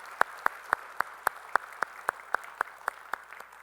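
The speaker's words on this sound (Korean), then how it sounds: "우리 환영의 박수 하시겠습니다." A small church congregation gives a slow, rhythmic round of applause to welcome visiting church elders, with about a dozen evenly spaced, unison claps in a reverberant room.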